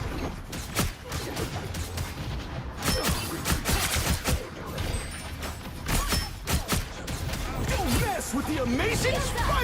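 Gunfire bursts rattle from the video game Marvel Rivals in rapid, dense volleys with crashing impacts, mixed with game effects and talking voices.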